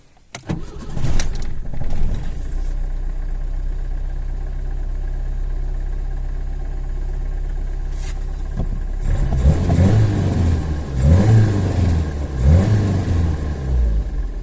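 A Lada 2108 with a 1.3 engine and a repaired Solex carburetor, still cold, starts with a few clatters, settles into a steady idle, then is revved several times in rising swells before dropping back to a stable idle.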